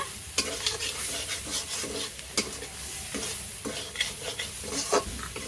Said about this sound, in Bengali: এবার আমি এই নারকেলের দুধটা দিয়ে দেবো